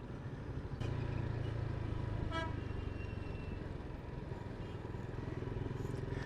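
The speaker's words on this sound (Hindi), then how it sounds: "बस वही ट्रैफिक जैम आ गया ना जिसका डर था" A congested city street seen from a motorcycle on a solo trip from Mansehra to Karachi, with a steady roar of engines and a near car horn honking over the idling, packed traffic.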